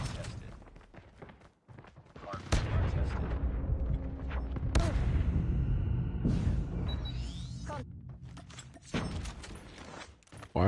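Rapid gunfire bursts in an online shooter video game, loud and dense with booming impacts, running nearly throughout under an excited voice talking.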